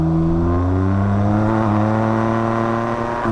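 A Can-Am Ryker three-wheel motorcycle engine accelerates, a loud, close, steady tone that climbs smoothly in pitch as the throttle stays open.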